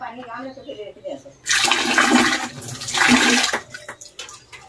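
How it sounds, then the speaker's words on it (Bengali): A clay pot pours out water in a magic trick, a loud rushing splash of about three seconds that swells twice. A voice talks before and after it. "এই থ্রি বলার সঙ্গে সঙ্গে আবার কিন্তু জল চলে এসেছে"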